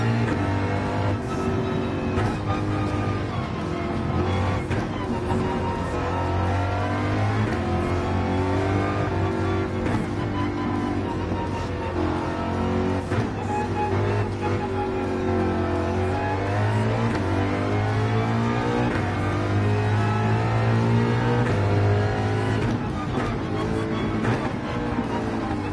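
A Mustang race car engine in Gran Turismo 7, roaring steadily and loudly while its pitch rises and falls through repeated accelerations and gear changes, with no talking over it.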